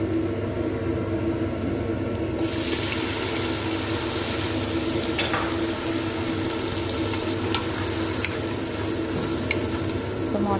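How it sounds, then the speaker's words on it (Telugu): Onion, garlic and ginger fry in a pan with a steady, dense sizzle and occasional stirring clicks, close up, the hiss swelling after a couple of seconds and holding constant. "ఎర్రగడ్డ, తెల్లగడ్డ, అల్లం బాగా వేగుతుంది."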